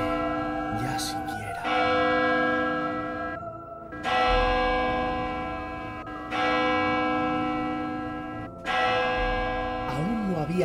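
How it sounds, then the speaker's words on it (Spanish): A church bell tolls slowly, about four heavy strikes, each ringing out with a long, shimmering decay that overlaps the next. "debilitándose de eco en eco, la última campanada"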